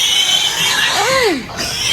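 A pig being pushed into its pen lets out one loud, rising-and-falling squeal near the middle, close to the microphone, over a steady outdoor background.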